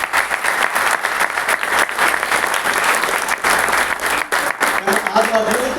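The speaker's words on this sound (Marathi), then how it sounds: "पुरस्कार मूर्तीचे जे जे मनोगत झाले त्यांच्यासाठी जोरात टाळ्या वाजवू" Loud, dense applause from the audience at an award ceremony in Solapur, a steady wash of many hands clapping that carries on throughout without a break.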